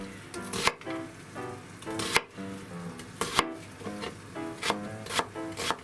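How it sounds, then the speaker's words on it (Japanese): Knife cutting an onion into wedges on a board, a rapid series of crisp slicing crunches and firm taps on the board, close and regular, with faint background hiss. "まず玉ねぎはくし切りに。"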